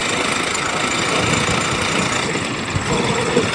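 A car reversing with a light clutch while stuck in beach sand at night on Chirala beach, its engine a steady low rumbling drone close by, without talk.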